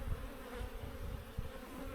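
Honey bees hum steadily in an open hive box during a hive split, a dense close buzz with no talk over it.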